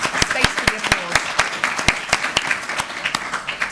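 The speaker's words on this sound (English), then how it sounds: "And I would guess space for the applause" Sparse, distinct claps ring out in a steady, uneven rhythm from a small conference audience, each clap sharp and separate rather than a dense ovation.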